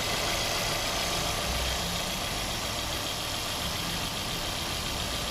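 A Mercedes A180 with an overheating problem and a suspected gasket fault idles from a cold start, a steady, even engine drone heard up close with no speech over it.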